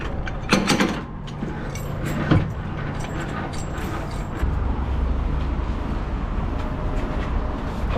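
Semi-trailer landing gear is cranked down by hand on concrete, making steady mechanical grinding and ratcheting with a few sharper clanks early on and a lower rumble taking over partway through.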